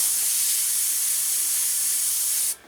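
An airbrush sprays paint onto a 1/32 scale Albatros D.V model aircraft, giving a steady, close, even hiss that runs for a couple of seconds and then cuts off abruptly.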